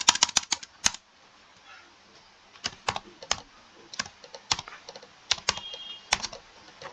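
Computer keyboard typed in short bursts of sharp, close key clicks, with a pause of about a second between the groups of keystrokes.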